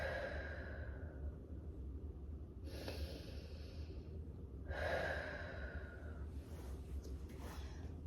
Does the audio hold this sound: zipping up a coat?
no